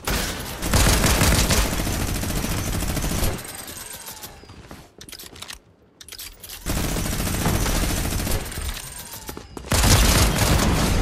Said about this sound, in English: Oh my god, this shotgun is OP.